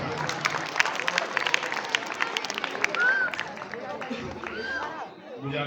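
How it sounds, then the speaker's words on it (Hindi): Audience clapping to welcome the chief guest at a school annual function, a dense sustained patter of many hands with scattered speech and crowd murmur mixed in throughout. "एक बार जोरदार तालियों से स्वागत"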